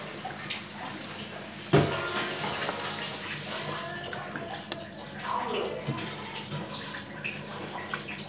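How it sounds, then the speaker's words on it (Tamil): Water poured into a cooking pot while making a tamarind curry with turakkai, a soft continuous splashing after a brief knock, fairly quiet with kitchen background noise. "கம்மியான அளவு தண்ணி ஊற்றிக்கோங்க"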